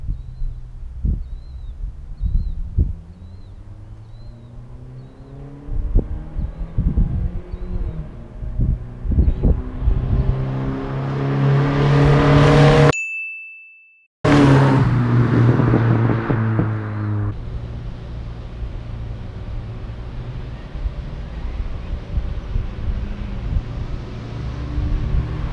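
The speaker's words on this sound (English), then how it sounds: "So I'm gonna run down the 8th mile, see what it'll do, and I'm gonna lift between shifts" A turbocharged 2.2 Plymouth Sundance accelerates hard down an eighth-mile strip, its engine note rising through the gears with brief breaks between shifts, loud and close, followed by a steady drone.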